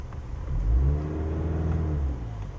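A Cadillac CT4-V engine revs hard in race mode, rising to a loud peak early, then holding a sustained, throaty drone at close range with no talk.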